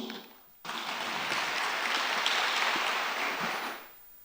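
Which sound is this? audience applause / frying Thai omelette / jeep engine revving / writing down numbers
audience applause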